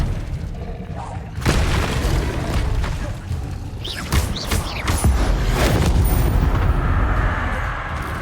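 Expelliarmus spell cast in Hogwarts Legacy duel, a sudden booming burst followed by crackling, creaking magical impacts and swishes that rise and fall over several seconds.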